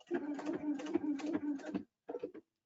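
An Epic 2 sewing machine tacks down a sequin with a cross stitch. A close mechanical whir with rapid stitching pulses runs for almost two seconds, and a short second burst follows after a brief pause.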